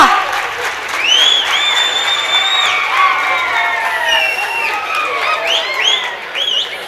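An audience at a public gathering in Bengaluru applauds loudly and continuously, with cheering and raised voices mixed into the clapping throughout.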